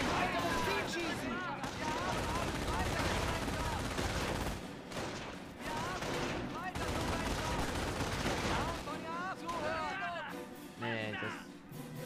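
Dense video game gunfire during a Normandy invasion battle, shots from a building blending into continuous rapid bursts and rattling volleys under loud battle din, with shouted voices mixed in throughout.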